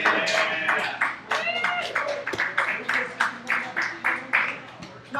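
A small dive bar comedy audience claps after a stand-up set, scattered and uneven applause with separate hand claps audible, rising and falling in bursts while voices talk over it.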